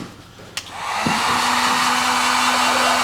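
A worn-out heat gun, nearly at the end of its life, clicks on and spins up into a steady, loud blowing roar with a faint hum, used for shrinking heat-shrink tubing on copper cable.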